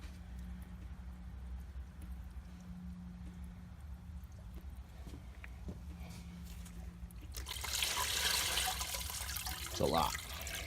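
Coolant drains from a Ford 3.5L/3.7L Duratec V6 engine into a pan, first as a quiet trickle under a low hum, then swelling into a louder splashing gush in the last few seconds.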